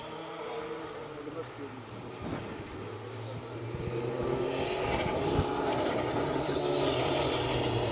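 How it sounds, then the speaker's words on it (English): A Fiesta R5 rally car races through a wet Welsh forest rally stage, its engine rising from a distance and growing louder as it nears, with revs changing as it passes. Commentators talk over the car. "John Mintle, Ross Hind in the Fiesta R5 coming through this 2nd stage there"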